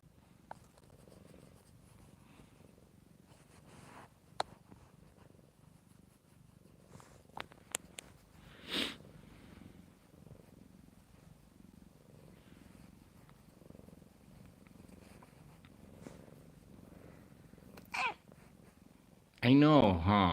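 A domestic cat named Sydney purrs steadily and softly up close, a low continuous rumble with a few brief clicks and rustles, and a short burst of louder noise near the end.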